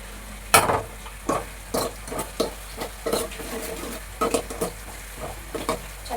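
Dried red chilies sizzle in hot oil in a pan for a ridge gourd palya, with a spatula scraping and stirring in irregular strokes over a steady low frying hiss.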